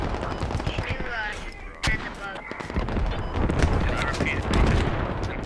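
Dense gunfire from the video game Squad, rifle and machine-gun bursts cracking near and far across a defended Afghanistan position with barbed wire, with a voice talking over the shooting.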